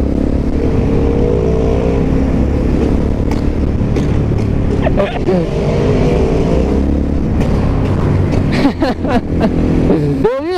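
Yamaha MT-03 single-cylinder motorcycle engine running loud and close, a steady throbbing drone with shifting pitch as it pulls along, and a few brief voice sounds near the end.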